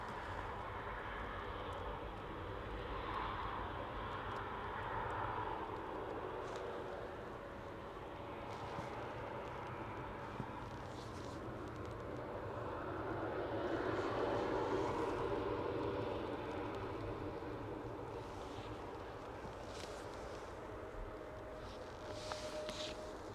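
An EasyJet airliner approaching at Manchester Airport makes a distant, rumbling roar that swells gently, peaks near the middle and then eases back, with no talking.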